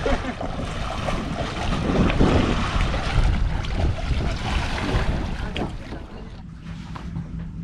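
A sailboat runs under engine into a headwind and heavy waves off Tanzania after a tropical storm, with constant roaring wind and rushing, splashing water over a low hull rumble.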